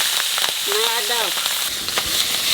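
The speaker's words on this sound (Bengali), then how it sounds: "এখানে ট্যাংরা মাছের ঝালটা করবো, তা লবণ হলুদ মাখাইয়ে একটু দানা বাজিয়ে নেবো" Tangra fish coated in salt and turmeric frying in hot oil, giving a steady close sizzle throughout with faint crackles and a brief tonal, voice-like sound rising over it partway through.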